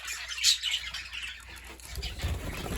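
Budgies in a breeding aviary give high, quick chirps and twitters, with a sharp call near the start and a low rustle or flutter toward the end.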